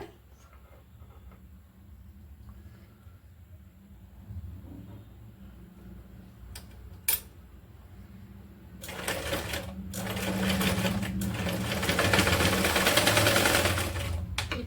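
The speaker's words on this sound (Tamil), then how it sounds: "லாஸ்ட்ல பேக் ஸ்டிச் போட்டு இது வந்து ஃபினிஷ் பண்ணிடுங்க." A sewing machine back-stitches a doormat made from waste cloth, starting with faint intermittent stitching and then running in loud, steady rapid bursts toward the end.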